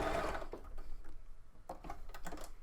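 Sewing machine stitching around the top of a Christmas fabric stocking with no thread loaded, a close, continuous rapid mechanical whirr and clatter that speeds and slows in bursts.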